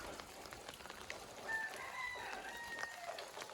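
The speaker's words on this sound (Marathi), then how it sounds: "कोंबडी अजून आरवत आहेत मस्तपैकी" Roosters crow at a distance on a quiet morning in the Konkan countryside near Devgad, Sindhudurg. Several drawn-out calls overlap against soft background hiss.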